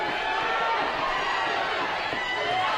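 A large outdoor crowd at the 2015 AFL Sydney Women's Division 2 grand final between Gosford Wildcats and Penrith Ramettes gives off a steady, broad roar of noise that holds at an even level throughout.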